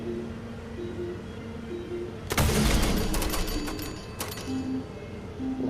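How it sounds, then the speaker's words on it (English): A missile launcher firing in Fallout 4 at a Nuka-Cade ticket game: a sudden loud blast and rushing roar midway, with a second sharper burst after it, over steady arcade-like background tones. "I like to use a missile launcher. And I just aim it at the middle."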